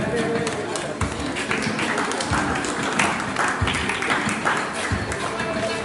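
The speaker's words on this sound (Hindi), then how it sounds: "कम से कम जो पीछे बैठे हैं वो ताली बजाएं।" Scattered clapping from a school audience at a farewell ceremony, uneven and moderately loud, with crowd chatter and voices mixed in throughout.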